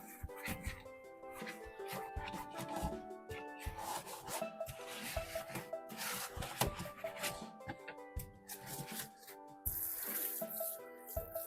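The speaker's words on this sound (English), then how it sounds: "A little bit of Dawn, and I'm gonna give this just a little scrub down." Stove guards get a brisk rub-down with Dawn dish soap, giving busy, uneven scrubbing and wet friction noise that stays fairly faint, with a little water sound mixed in.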